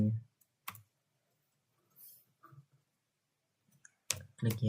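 Sparse computer mouse clicks, a few sharp isolated taps spread out across a quiet room, with some soft talking in between.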